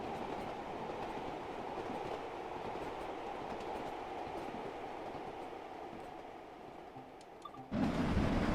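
A steam passenger train from Train Sim World 2 rolls along the rails with a steady, dense running rumble and rhythmic clatter, growing briefly louder near the end; no voices.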